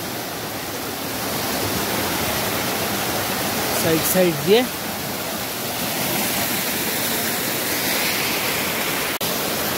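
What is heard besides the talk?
mountain waterfall stream being crossed on a trek in Sikkim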